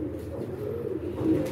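Pigeons coo in a continuous low, throaty warble close by, a steady murmur that swells slightly near the end with no talking.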